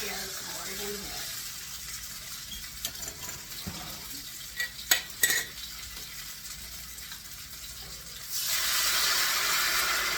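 Browned short ribs sizzle in a pot as a soft, steady hiss, broken by a few sharp clinks and clatters, and the frying swells much louder near the end.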